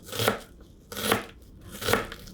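An onion is chopped in a small apartment kitchen, with three separate crunchy knife strokes about a second apart, close and clear.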